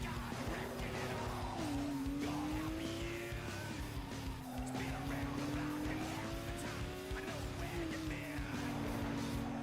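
An Opel Corsa races in Need for Speed Underground 2, its engine droning steadily and rising and falling through gear changes, with tire squeals and skids over the racing sounds.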